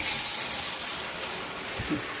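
Water runs from a shower head in a steady, soft hiss that continues unbroken, with a brief low bump near the end and no clear speech.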